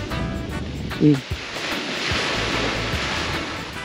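Sea waves at a beach in Panglao, Bohol, heard as a steady, fairly loud broadband wash of surf throughout, with a brief voice-like sound near the one-second mark.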